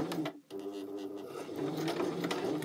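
A sewing machine stitches around fabric coasters, a steady close whirring hum that breaks off briefly near the start and then resumes for a longer continuous run.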